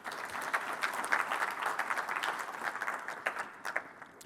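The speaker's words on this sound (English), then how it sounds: "I think they deserve a warm round of applause." A business gathering's audience breaks into applause, a fairly small room of people clapping in uneven bursts that swell and then thin out over a few seconds.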